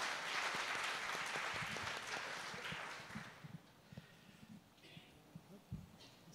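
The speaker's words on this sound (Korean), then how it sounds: "여러분 큰 박수 부탁드릴게요" Audience applause at the opening ceremony of the 6th World Korean Language Educators Conference, a dense clapping wash that fades after a few seconds into scattered claps and a few louder isolated hand claps.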